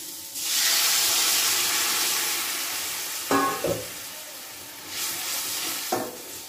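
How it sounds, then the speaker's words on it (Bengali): Hot water poured into a pan of frying taro sets off a loud, sustained hiss of steam and sizzle that slowly fades, with a few clattering stirs of a utensil afterward; no voices. "এবারে এর ভিতর দিয়ে দেবো গরম জল।"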